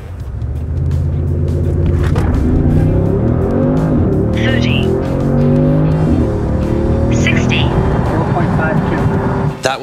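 An Audi S6 accelerating hard in a 0-60 run on summer tyres in cold weather without launch control, its engine note rising loud and close through gear changes over the whole stretch.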